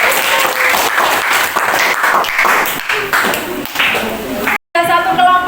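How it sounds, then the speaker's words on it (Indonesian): A classroom audience claps for a student group after its presentation, with steady scattered applause across most of the clip, a brief cut, and voices heard at the end. "Ya, tepuk tangan untuk kelompok."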